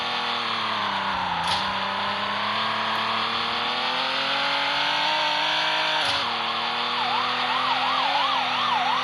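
A police car siren in the Roblox video game wails loudly and continuously, rising and falling over a steady engine-like drone, with no talk over it.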